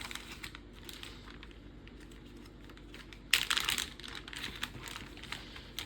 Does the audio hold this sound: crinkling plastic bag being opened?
yes